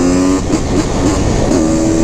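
A street-legal Honda CR500R two-stroke motorcycle riding on the highway, its engine droning loud and steady with slight pitch wavers and constant wind rush, close up.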